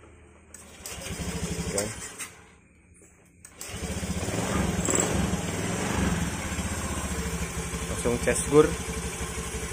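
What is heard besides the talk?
Honda Vario 110 motorcycle engine starting with starter, then idling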